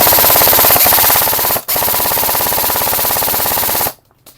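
A G&G STP45 airsoft pistol fires on full auto in one long, loud rapid burst with a brief break, then cuts off to near silence.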